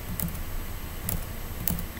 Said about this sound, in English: Okay, I'm going to continue typing.